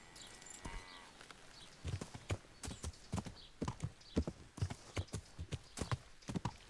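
Steady horse hooves clip-clopping in a quick, even rhythm in the video game Kingdom Come: Deliverance, fairly close, with a brief whinny-like sound near the start.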